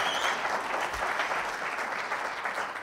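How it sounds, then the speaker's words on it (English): Audience at an innovation fellowship pitch event gives a strong, sustained round of applause, many hands clapping steadily and loudly throughout. "Do you think you deserve a huge round of applause for being our last pitcher?"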